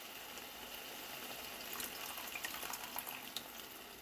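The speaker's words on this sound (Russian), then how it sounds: "Мы добавим немножко кипяченой воды." Boiled water poured into a pan of frying vegetables for soup, a steady hissing, splashing pour close by with a few brighter spatters near the end and no talk.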